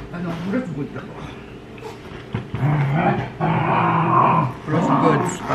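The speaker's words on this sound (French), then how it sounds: "Bon les chiens, vous vous calmez." Several dogs bark and growl indoors at home, loud and close, in uneven bursts across the clip, with a person talking over them.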